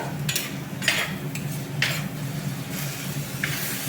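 Chopped tomato and slit green chilies sauté in a pan for a Kerala crab curry, giving a low steady sizzle with several light scrapes and taps from a stirring spoon.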